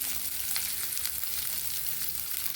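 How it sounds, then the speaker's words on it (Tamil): Chopped onion sautéing in a pan for a ridge gourd and peanut curry, a steady close sizzle with faint stirring scrapes running throughout. "வெங்காயம் பச்சை வாசனை போகிற வரைக்கும் கொஞ்சம் வதக்கி விடலாம்"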